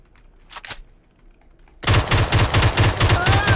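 Rapid automatic gunfire from a video game rifle sprays into a wall in a burst after a quieter lead-in, loud, dense and continuous for nearly two seconds.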